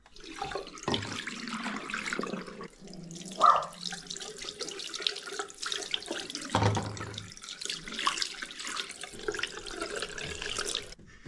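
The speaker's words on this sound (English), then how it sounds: "Now this is just water, so you can just pour it down the sink." Water splashes and gurgles into a sink, pouring unevenly with bursts and trickles, close by and with no voices.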